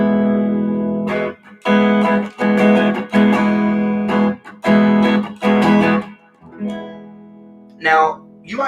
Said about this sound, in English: I'll arpeggiate this chord, and I'm going to walk down it like this.